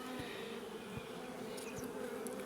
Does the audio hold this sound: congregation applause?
no